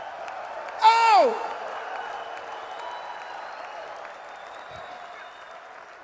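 A church congregation claps and cheers in a broad, steady wash, with one loud, sliding shout of "Oh!" near the start rising above the crowd before the applause fades a little.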